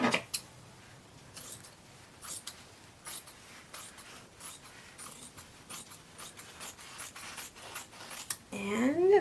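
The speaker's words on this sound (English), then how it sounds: "Let's go ahead and cut this one in half." Scissors slice through a vintage cloth handkerchief in a quick series of close, crisp snips and rustles of fabric, ending with louder handling of the material.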